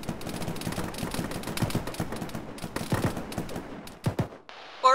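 Gunfire in a tactical military video game: rapid bursts and scattered single shots crack at varying distances, denser early and thinning out, ending in a brief pause before a faint electronic tone.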